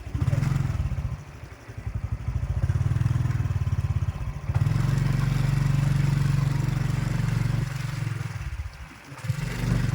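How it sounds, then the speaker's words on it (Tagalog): A motorcycle passing nearby on a road gives a close, steady engine drone that swells and dips, with a brief lull near the middle and end. "Ay, may motor."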